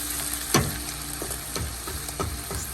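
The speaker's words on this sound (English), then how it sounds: "you allow your beef to cook until it is brown" Ground beef sizzles steadily in a pan, with a few sharp scrapes and stirring clicks breaking through the continuous frying hiss at close range.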